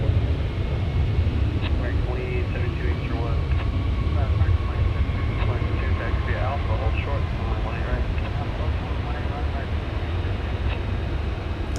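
A Qantas airliner at DFW airport, heard as a loud, steady roar of aircraft engines with broadband rumble, continuous throughout, with scattered faint background sounds.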